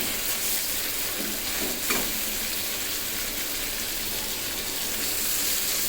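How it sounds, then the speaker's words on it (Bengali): Water poured into a hot pan of frying chicken for boiling it, a steady loud sizzle and hiss throughout with a brief splash of liquid hitting the oil near the middle. "এখন এখানে দিয়ে দিব মানে জাস্ট মুরগিটা সিদ্ধ করার জন্য সামান্য পানি"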